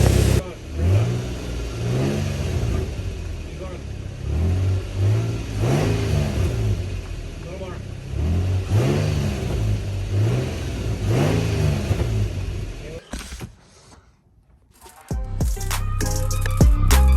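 A car engine with a newly welded exhaust revving in repeated swells and idling between, loud and close, with a short quieter gap and clatter near the end; voices talk intermittently.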